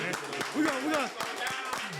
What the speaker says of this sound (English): Yeah, clap it up for that